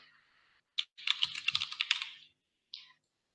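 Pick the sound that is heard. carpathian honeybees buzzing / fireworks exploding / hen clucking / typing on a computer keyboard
typing on a computer keyboard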